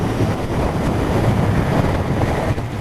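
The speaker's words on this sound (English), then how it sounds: "Of course, there's a bit of wind blast." Wind buffets loudly and continuously while riding a Royal Enfield Interceptor 650 motorcycle at around 60 mph, a dense low roar across the microphone with the engine buried beneath it.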